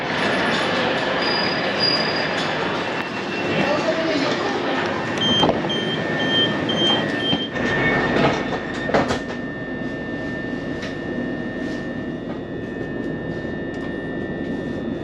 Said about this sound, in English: ready to catch a C2C train from London Fenchurch Street all the way to the seaside resort town of Southend